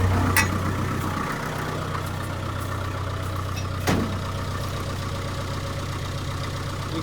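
A Land Rover 2.25-litre diesel engine runs steadily at idle, a low continuous rumble with a single brief rev blip partway through and no voices.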